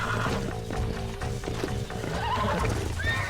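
A horse in Red Dead Redemption 2 whinnying and neighing while its hooves clip-clop, a near, agitated animal over a low game ambience, no talk.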